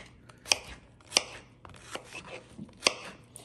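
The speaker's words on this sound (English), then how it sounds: "You just cut in half, okay? And just cubes like this, okay?" A knife chops halved zucchini into cubes for soup on a cutting board, giving four or five distinct, sharp, close cuts at an uneven pace with soft rubbing noises between them.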